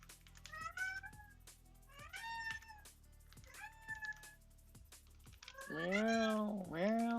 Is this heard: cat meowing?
yes